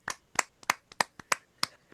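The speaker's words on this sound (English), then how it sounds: "we need to do a round of applause for Oliver and Callie" A few people clap sparsely for children after a beginner guitar lesson performance: seven crisp, separate claps at a steady, slow rhythm, close and alone, with no talking.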